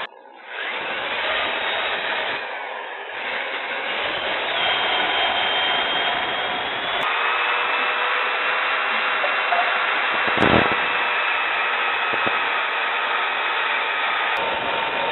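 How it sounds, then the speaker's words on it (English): Steady whirring sander smoothing a turned wooden hat, a continuous close hum and rushing hiss lasting throughout, with slight shifts in pitch as pressure changes, no talk. "In that corner, you can get the edge of the sandpaper to go right in there."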